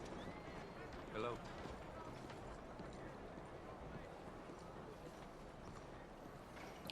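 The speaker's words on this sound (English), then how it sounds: "There's a horse" Horse hooves clip-clopping on a path in the open-world game Red Dead Redemption 2, a steady walking rhythm under constant ambient game sound, with a brief louder burst early on.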